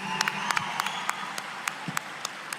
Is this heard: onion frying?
no